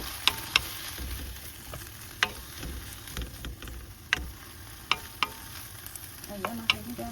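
Adobong sitaw, string beans simmering in a pan, stirred with a utensil that clicks sharply against the pan every second or so over a steady low sizzle and bubbling, heard up close.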